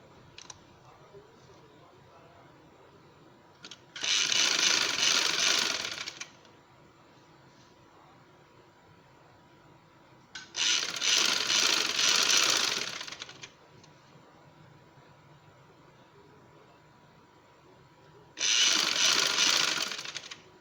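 A sewing machine stitches along the very edge of a shirt's back neckline in three separate bursts of a few seconds each, bright whirring runs separated by long quiet pauses.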